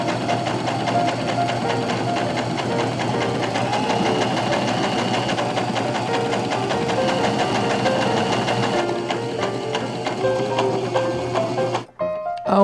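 A sewing machine stitches one straight seam down a garment turned inside out, a fast steady mechanical chatter running about nine seconds before slowing and stopping with a short clunk near the end.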